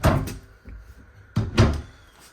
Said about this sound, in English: let me close up this door